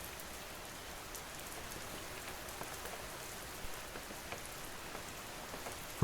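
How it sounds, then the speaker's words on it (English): Steady rain falling on a motel roof and tapping against the windows, a dense, even hiss with scattered sharper drops, unbroken and close. "there is only rain. It falls on the roof. It taps against the windows."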